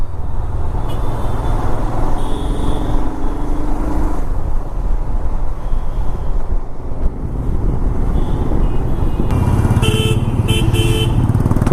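Busy evening road traffic on the way out of Delhi toward Meerut and Haridwar, heard from a motorcycle, with a steady rumble of car and bike engines. Short horn toots come through near the end.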